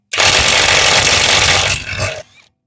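A Parkside Performance PPDSSA 20-Li A1 cordless 600 Nm impact wrench tightens for about two seconds, a loud, close, continuous rattling hammer that cuts off abruptly, then briefly whirs down.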